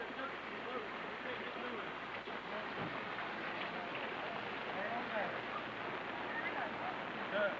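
Steady rain pours down during a 2003 flood in Smithers, West Virginia, as a constant even hiss with faint rumbling underneath and no breaks.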